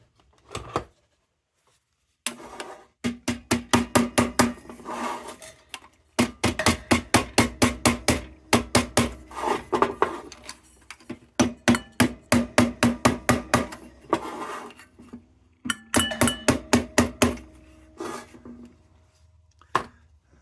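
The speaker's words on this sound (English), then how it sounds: "giving them a little bit of a bend before I tap them with the soft hammer" Tabs on an Air Pilot lantern struck with a soft hammer, bursts of rapid, crisp taps in quick rhythmic runs separated by short pauses, close and fairly loud.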